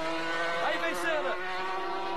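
Ayrton Senna's race car accelerates on a wet, rainy track, its engine a loud sustained high-pitched whine that rises and shifts in pitch, with a race commentator talking over it.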